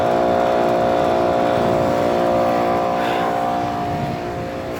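A Goodman central air conditioner runs outdoors, giving a loud, steady mechanical hum and whirring drone with a constant tonal buzz that holds throughout and fades slightly near the end, with no talking.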